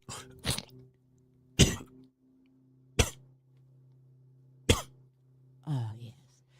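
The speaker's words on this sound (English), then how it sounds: "I think I need to pause for the cause and clear my throat." A person coughs and clears their throat in a studio with a steady hum, five separate harsh bursts spaced a second or more apart, the last one a raspy, drawn-out rumble.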